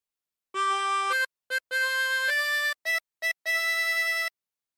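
Chromatic harmonica alone playing a phrase of O Christmas Tree, a string of clean sustained blown and drawn notes with short gaps between them, close and moderately soft.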